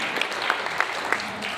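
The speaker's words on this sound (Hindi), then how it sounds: "पेरेंट के लिए भी एक ताली मारनी चाहिए" An audience at a career development seminar gives the parents a short burst of clapping, with a few sharper claps standing out from a dense, fairly close round of applause.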